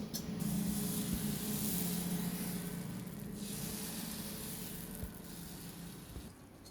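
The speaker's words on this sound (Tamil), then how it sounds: "மாவு ஊற்றிக்கிறேன்." Appam batter poured into a hot appam pan sizzles with a steady hiss that fades slowly, close and fairly quiet, with no talk over it.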